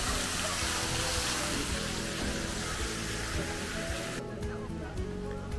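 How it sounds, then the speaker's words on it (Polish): Waterfalls at a hotel in Costa Calma, Fuerteventura, give off a loud, continuous rush of splashing water that fills the whole stretch. The roar thins a little toward the end. "I słuchajcie, wodospady."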